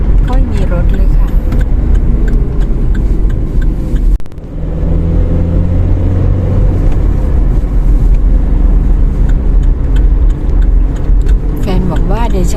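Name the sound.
car driving fast on an empty road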